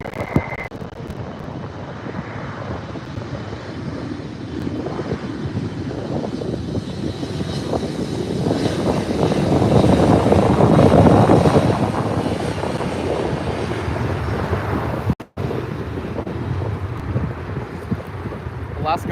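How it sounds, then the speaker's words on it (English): Alaska SkyWest airliner taking off from LAX runway 24R toward San Francisco, a broad jet engine roar swelling to a peak and then easing, heard from a distance with wind buffeting the microphone. "Alaska SkyWest taking off runway 24 right, going to San Francisco."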